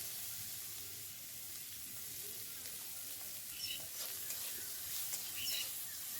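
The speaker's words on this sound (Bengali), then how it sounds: "লাল লাল করে আমি ভালো করে ভেজে নেবো" Onions fry in oil with a steady, fairly quiet sizzle and occasional soft stirring clicks near the end.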